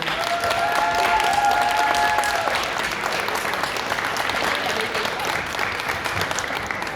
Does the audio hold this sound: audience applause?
yes